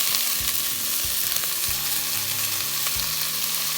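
Tomatoes dropped into onions already frying in a pan for a curried coconut cream soup, giving a steady close sizzle with stirring scrapes and clatter throughout.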